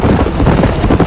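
Horse galloping in Red Dead Redemption, a steady rapid clip-clop of hooves close up and fairly loud across the whole second, with no talk over it.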